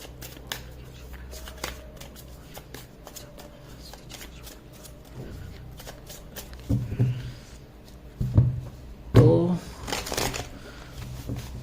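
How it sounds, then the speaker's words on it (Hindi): Tarot reading cards being shuffled and handled during a spiritual career reading, a run of soft papery riffles and taps that grows louder and busier toward the end, with low background noise throughout. "Let me clear the cards."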